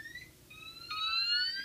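A fire alarm system in full alarm: an electronic tone, steady and rising slightly in pitch, sounds twice with a short gap, the second burst louder and layered with extra tones.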